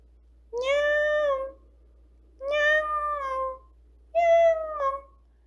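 A voice imitating a cat's meow, three drawn-out mewing calls in a quiet room, each about a second long with short pauses between, done to scare off mice.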